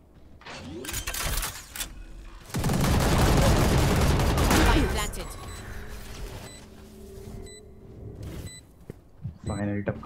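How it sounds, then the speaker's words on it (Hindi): In Valorant, a machine gun fires one sustained, loud burst lasting about two seconds. Quieter shots and mechanical game sounds come before and after it. "मशीन गन लेके आया"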